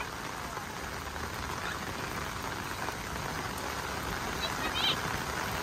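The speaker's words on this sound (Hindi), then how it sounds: "पूरा देखो कोटद्वार पूरा का पूरा बारिश के मौसम में बादलों से और बारिश से गरज रहा है" Heavy monsoon rain falls steadily in Kotdwar, a dense, even hiss of drops on surfaces, moderately quiet and continuous, with no other clear sound standing out.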